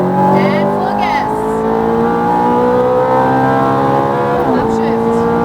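A Lamborghini Gallardo or Ferrari F430 F1 engine revs hard under full throttle on a racetrack, pitch climbing steadily toward 8,000 rpm, then a quick dip at an upshift before climbing again; loud and close.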